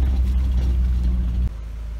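A Volkswagen Golf drives along a rough road in Serbia's Tara nature reserve, giving a steady, close low rumble of engine and tyres that dips slightly near the end.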